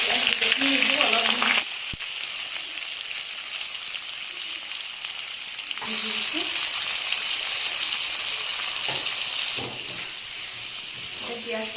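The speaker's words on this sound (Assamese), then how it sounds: "পিঁয়াজখিনি অকণমান ৰঙচুৱা হোৱালৈকে ভাজি ল'ব লাগিব।" Onions frying in hot oil with panch phoron and dried red chillies, a steady loud sizzle and hiss throughout, with brief stirring clatter and a short break in intensity partway.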